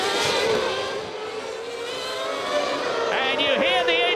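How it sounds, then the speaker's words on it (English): Formula 1 race car engines at the San Marino Grand Prix rise in pitch as the cars pass behind a safety car, a high whining drone heard under a commentator's steady talk. "you hear the engine revs rise as Senna, followed by Schumacher"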